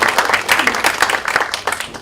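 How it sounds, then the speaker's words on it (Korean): Lawmakers at a party caucus meeting give a brief burst of applause, dense close clapping that stays steady throughout. "다들 뭐 잘했다는 이 박수나."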